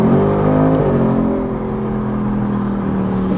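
A car fitted with a Steeda air intake pulls hard on a freeway, its engine droning loud and close with a rising then steady pitch and a whirring intake note, no voices over it.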